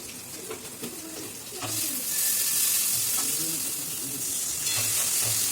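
Whole spices fry and sizzle in oil in a pan while being stirred, a steady hissing sizzle that swells louder after the first couple of seconds, with occasional scrapes of stirring throughout.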